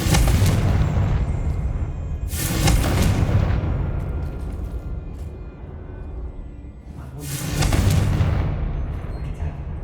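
Confringo spell explosions in the Hogwarts Legacy video game: two loud, booming blasts a few seconds apart, each followed by a long rumbling decay under continuous game noise.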